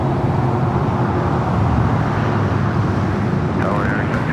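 A jet airliner inbound from JFK roars steadily and loudly at LAX, a continuous broad engine rumble filling the whole stretch with no break, while a voice talks over it.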